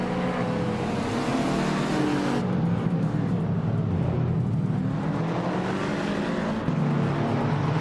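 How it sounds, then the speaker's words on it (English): Race cars, led by a 2015 Toyota GT86, start on the Sydney Homebush Street Circuit in a racing video game, their engines droning loudly and continuously, revving up in pitch as the pack gets going. "The race kicks off at the Sydney Homebush Street Circuit, and Boofy 19 is starting on pole with a 2015 Toyota GT86."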